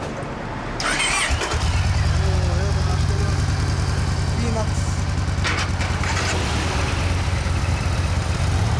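A Yamaha T-MAX scooter engine cranks and fires up after a second of quiet, then settles into a steady, loud, close idle hum with a few brief noises over it.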